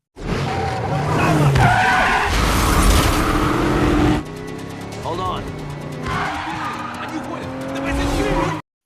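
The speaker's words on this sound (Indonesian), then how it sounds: "terjadilah aksi kejar-kejaran brutal di jalan raya" Car chase on a highway in an action film, with loud engines roaring and tires squealing in long skids, followed by quieter passing traffic and further screeches, with a voice speaking over parts.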